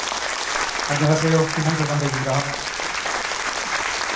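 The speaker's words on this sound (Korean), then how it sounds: "오늘 영화를 연출하신 감독 김상철 목사님을 여러분 뜨거운 박수로 맞아주시죠." Warm, sustained applause from a screening audience welcoming a film director, a continuous loud wash of clapping that carries under a voice briefly speaking in the middle.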